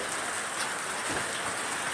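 Monsoon rain pours near Konni Medical College in Pathanamthitta district, Kerala: a dense, even hiss that holds steady throughout with no voices.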